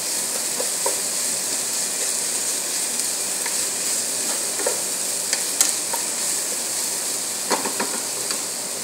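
Onions sautéing in a pan with chopped leftovers from a musakan dish, giving a steady close hiss and sizzle with scattered light scrapes and taps of stirring throughout, no voices.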